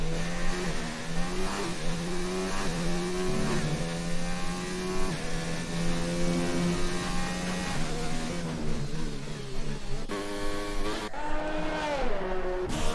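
A race car in a racing video game running a fast lap of the Chinese GP, its engine whining continuously through rising and falling revs with gear shifts and brief tire squeals, loud and close throughout.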